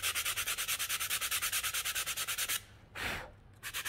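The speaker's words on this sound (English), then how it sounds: "I'm going to sand it nice and flat." Sandpaper rubbed by hand across a wooden pencil box from a woodworking craft kit to flatten it, in quick, even back-and-forth strokes close up, then a short pause and a brief burst before the strokes resume.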